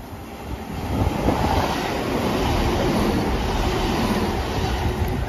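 A ScotRail diesel multiple unit passes through Dalmeny station, giving a close, steady rumble and rolling wheel noise throughout with no voices.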